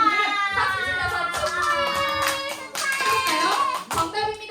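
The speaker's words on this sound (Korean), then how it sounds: "정답을 맞힌 친구에게 정답 맞췄다고 박수 쳐줘야 되거든요" Children in a classroom quiz game clap their hands for a classmate who answered correctly, quick rhythmic claps under loud children's voices and a bright musical tone.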